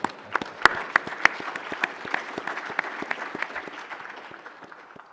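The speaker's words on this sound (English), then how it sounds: "give yourselves a round of applause now" An audience at a summit panel applauds: dense, fast clapping, loudest in the first seconds and tapering gradually toward the end, with no talk over it.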